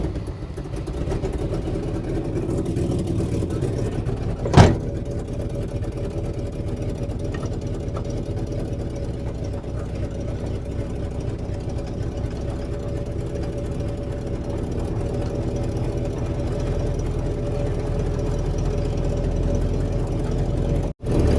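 The engine of a ravaged 1960 El Camino runs with a steady, low rumbling idle for about twenty seconds, with one sharp click early on and no clear revving. It is close and continuous, with no voices.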